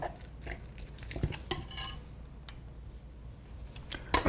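A spoon clinks and scrapes in a bowl while tuna mayo is stirred for an avocado sandwich, an irregular run of light taps and soft scraping close by.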